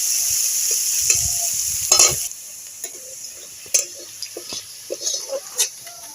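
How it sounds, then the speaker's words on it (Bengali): Chopped onions frying in oil for masoor dal, a constant bright sizzle near the pan, with a spatula stirring and scraping early on, then scattered light taps and clinks. "পেঁয়াজটা লাল লাল করে ভেজে নেব"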